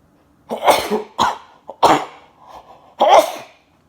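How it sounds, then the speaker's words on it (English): A short run of explosive, sneeze-like bursts, about four sharp blasts close to the microphone with brief pauses between them. "I shouldn't sneeze in my hands"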